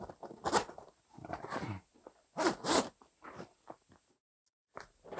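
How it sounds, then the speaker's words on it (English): Zipper on a 5 x 5 Gorilla grow tent is pulled along its track in several rasping bursts of varying length, close and clear, with short pauses between pulls. "So once you have this zipper started, what you're going to do is you're going to walk it all the way around the tent"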